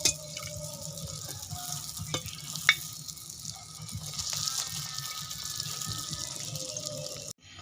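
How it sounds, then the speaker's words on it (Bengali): Puchka shells frying in hot oil, a continuous bubbling sizzle with occasional clicks and knocks from handling in the pan, fairly close and steady until it cuts off at the end. "এবার ফুচকাগুলো ভেজে নেব"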